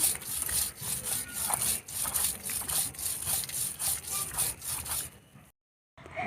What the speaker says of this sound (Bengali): এখন ধনেপাতা দিয়ে বেটে নেব।